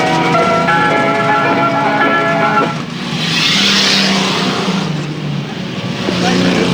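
Austin Westminster saloon cars racing at Arlington Stadium: loud engines rev and drone close by, with a pass sweeping through the middle and a commentator's voice running beneath the engine noise.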